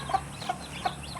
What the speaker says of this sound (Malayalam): പൂവൻ കോഴിയാണോ പിടക്കോഴിയാണോ എന്നൊന്നും അറിയില്ല.